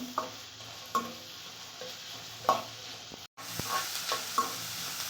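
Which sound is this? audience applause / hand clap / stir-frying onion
stir-frying onion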